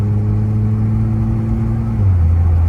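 An Infiniti Q60 engine with upper downpipes installed drones steadily up close with a low exhaust rumble, its pitch dropping slightly partway through as a faint turbo whoosh lingers.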